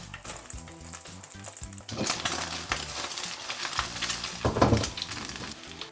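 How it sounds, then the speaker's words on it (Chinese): Eggs stir-fried with scallion and garlic in a pan, with busy sizzling and clattering of a spatula against the wok, a louder burst of scraping near the end; background music plays throughout. "鸡蛋炒蓬松后下入葱蒜"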